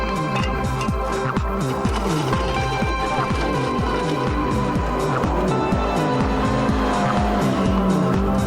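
Rally cars race through a course, engines roaring and revving close by with squealing, skidding tires over continuous loud motor noise.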